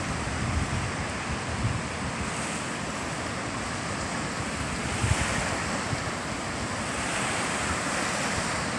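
Rough sea surf washes onto the shore after a typhoon, a continuous loud roar of breaking waves mixed with wind buffeting the microphone, with no voices.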